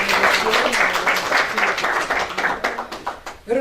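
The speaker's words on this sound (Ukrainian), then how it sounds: "Ваші оплески" Steady applause from an audience, many hands clapping together in a dense patter that thins slightly toward the end.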